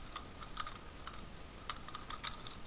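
Quiet, close tapping on a computer keyboard while entering text into a Microsoft Excel spreadsheet, irregular clusters of light keystrokes over a steady background hiss.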